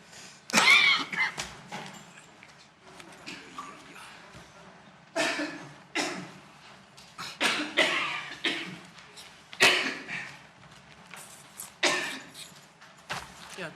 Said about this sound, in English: I just cough and cough and cough